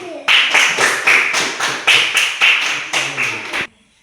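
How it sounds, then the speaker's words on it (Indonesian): A classroom of students clapping for a group's presentation: loud, close rhythmic claps in a steady, roughly regular beat, ending sharply after a few seconds. "Oke, kita tepuk tangan dulu sama kelas dari kelompok 1 dulu."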